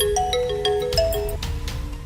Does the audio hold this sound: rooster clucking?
no